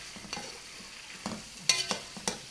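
Spiced meat for kabsa being stirred in a pot on a gas stove, several separate scraping strokes of a spoon against the pot over a soft sizzle, close and fairly quiet.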